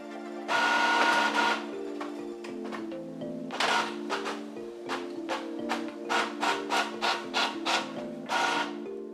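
An Epson printer runs a remote print job, its carriage and feed mechanism making bursts of whirring, rasping motion followed by a run of short rhythmic strokes, close and fairly loud with no talk.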